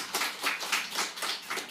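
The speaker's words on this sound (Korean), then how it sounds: "제가 이것 때문에 두 번째 박수 받는 건데" Church congregation applauding during a sermon, a short burst of close, rhythmic clapping with no voices over it.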